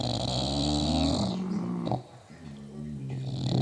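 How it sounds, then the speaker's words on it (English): A sleeping dog snores close by with deep, raspy breaths that rise and fall in a slow rhythm, the first long snore loud and the next ones quieter, with someone speaking softly over them. "Wow, listen to him snore."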